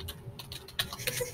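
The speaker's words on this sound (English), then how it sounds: "Typing is hard." Quick, uneven clicks of typing on a computer keyboard, close and moderately loud, forming a short burst of irregular key taps with no talking.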